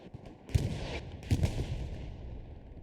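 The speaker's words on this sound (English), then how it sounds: "The artillery is so strong." Artillery shells land during a competitive match of the video game Hell Let Loose, with a couple of heavy booming impacts rumbling over a continuous battlefield din.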